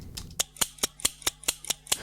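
Scissors played as percussion with saturation lo-fi effects: eight punchy, evenly spaced snaps with a thicker, slightly gritty attack, close up and alone over a faint hum.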